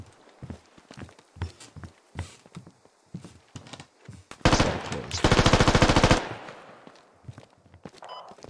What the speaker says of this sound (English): You had a friendly below us firing his MP5.